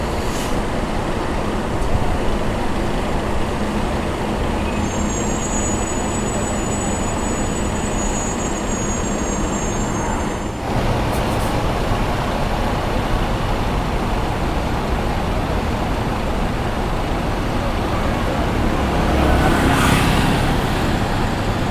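A Mercedes-Benz OH1626 bus with an Adi Putro body and air suspension rumbles steadily and loudly close by, its continuous engine and road noise filling the scene with a brief break midway, and no talk.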